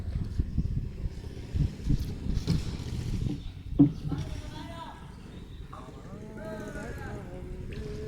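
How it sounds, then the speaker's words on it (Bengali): A trawler boat moves slowly along the Sangu River with a steady low engine drone running throughout, while people talk loudly over it. "খুব ধীর গতিতে ট্রলার নিয়ে এগোচ্ছি"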